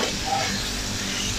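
Steady, close sizzling hiss of tantuni meat frying on a hot griddle while being stirred, continuous and even throughout.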